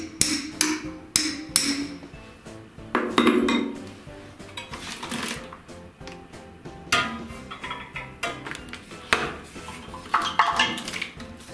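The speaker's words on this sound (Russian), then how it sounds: "Беру молоток и слегка его подгинаю." A series of sharp metallic hammer blows on a radiator's lower mounting bracket, bending it, ring out in irregular bursts, some quick taps and some heavier strikes, close and clear with no talking.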